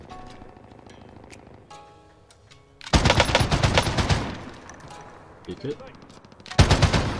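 Bursts of M60 machine gun fire in Call of Duty Warzone (Cold War), two loud sustained volleys with a short quieter stretch between, heard over faint game ambience and brief talk.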